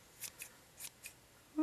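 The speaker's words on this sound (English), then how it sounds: "We have an unruly side of our pom-pom. So just trim away." Scissors snipping away at a yarn pom-pom, four quick crisp cuts spaced out over a second and a half, close and fairly quiet.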